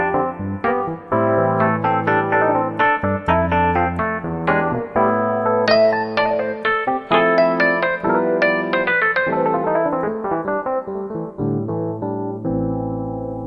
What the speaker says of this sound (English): This is it's a Rhodes piano, an electromechanical instrument.